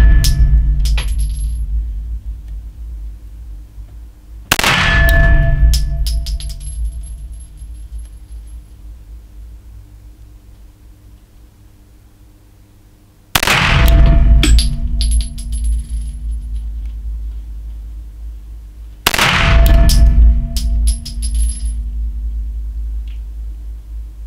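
Springfield Armory Ronin 1911 9mm pistol fired at about 14 meters, three loud sharp reports spaced several seconds apart, each with a ringing decay and room echo fading into quiet between shots.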